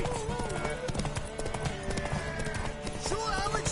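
Hooves clip-clop in a steady rhythm in the video game Garbagio Quest in Witchy-World, mixed with game music and character voices.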